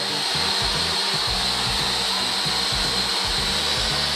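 A racing drone hovering nearby gives off a loud, high-pitched, steady whine from its spinning propellers, with a low fluttering pulse underneath and no pauses.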